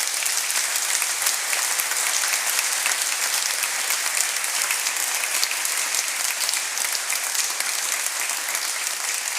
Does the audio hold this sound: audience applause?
yes